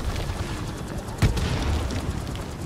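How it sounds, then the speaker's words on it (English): Mortar fire in the Call of Duty Modern Warfare video game: one sharp boom lands mid-clip over a rumbling battlefield din of distant gunfire and explosions, with no speech. "Mortar fire! Incoming!"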